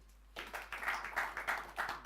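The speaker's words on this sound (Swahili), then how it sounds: "Makofi." Audience at a Kenyan county government forum, including Turkana County attendees, bursts into clapping after a question. The applause is short and fairly close, with uneven overlapping claps that swell and pulse for about two seconds.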